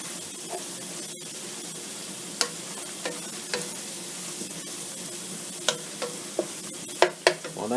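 Just over a pound of ground beef frying in its own fat in a pan, with a continuous soft sizzle broken by scattered sharp pops and crackles, close and fairly quiet with no talking.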